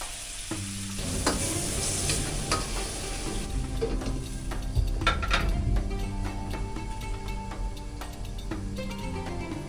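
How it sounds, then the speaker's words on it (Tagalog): Fish sauce hitting a hot pan of tinola base, a steady close sizzle of frying with scraping stirs and light clinks of a utensil against the pan throughout. "Lagyan natin ng konting fish sauce para lumasa"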